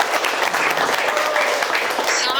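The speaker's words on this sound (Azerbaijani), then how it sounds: "sənətkarımız Röya xanımda alqışlayaq." A studio audience breaks into loud, sustained applause, a thick continuous roar of clapping that holds steady from start to finish, with a faint voice briefly cutting in near the end.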